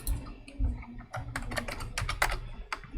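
Rapid keyboard typing, a steady run of crisp clicks and clacks close up, with faint low background hum and no talking.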